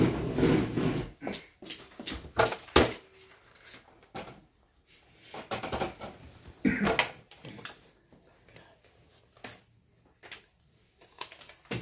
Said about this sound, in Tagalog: Kumakahol pa rin si Bingbing.